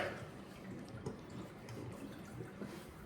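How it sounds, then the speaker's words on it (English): Faint water draining through the plumbing of a family lodge, a soft continuous trickling wash inside the pipes with occasional small gurgles, quiet and steady with no other sounds. "I hear water draining, but I believe it may be draining back"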